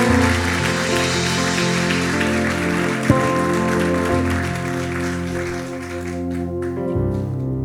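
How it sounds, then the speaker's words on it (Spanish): A church congregation applauds during a worship service, a steady dense clatter of many hands that runs throughout with sustained music underneath. "si vas a aplaudir, aplaudile al Señor, no a esta palabra siquiera"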